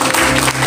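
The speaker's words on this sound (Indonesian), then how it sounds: "Berikan tepuk tangan paling meriah." A church congregation at a fasting prayer gathering on Mount Salak claps in a thick, continuous burst of applause, loud and close, lasting under a second.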